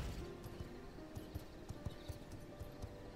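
Horse hooves clip-clop at a steady trot in the video game V Rising, the regular hoof beats sitting close over a continuous ambient game bed with no talk.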